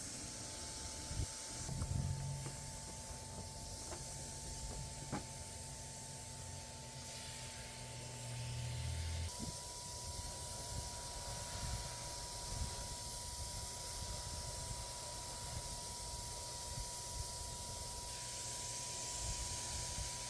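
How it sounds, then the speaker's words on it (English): A faint, steady paint sprayer hiss during test spraying runs through the clip with a low hum underneath and a couple of soft knocks near the start. "I did a few spraying tests before hitting the piece."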